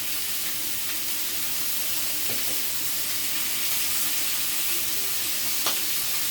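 Pork sears in a hot pan with a loud, continuous sizzle close by, with a couple of faint clinks and scrapes as the pieces are turned.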